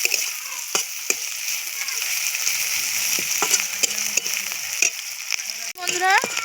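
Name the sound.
frying soaked dried shrimp in oil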